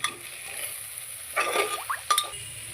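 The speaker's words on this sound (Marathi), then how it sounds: "आता ह्याच्यात आपण सोयाबीन टाकणार आहोत मस्त मिक्स करून घेऊया आपण" Soybeans being stirred into a pulao in a pan: soft scraping and clinking sounds over a low sizzle, with a couple of louder utensil knocks near the end.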